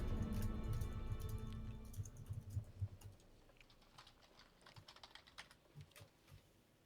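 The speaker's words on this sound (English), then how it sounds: "Stop typing, Bobby." Someone types on a computer keyboard during a board game session: fast, irregular clicks that run densely at first, then thin into scattered, quieter taps.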